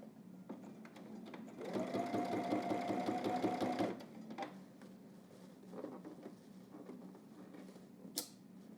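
A sewing machine stitches a felt seam in one short burst of fast, rhythmic needle chatter lasting about two seconds. Quieter handling rustles and clicks follow the burst.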